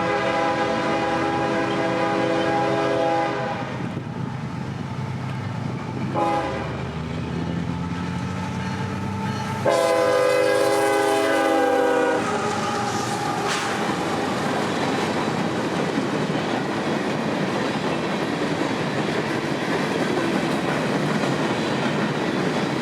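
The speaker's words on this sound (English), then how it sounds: "setting up for another northbound coming from Lakeland, this one carrying merchandise and phosphate from customers all over said town." A northbound freight train hauling merchandise and phosphate in Central Florida rolls past steadily and loudly, its horn sounding in several long blasts over the rumble and clatter of passing cars.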